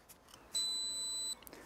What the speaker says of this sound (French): Et on va entendre un bip.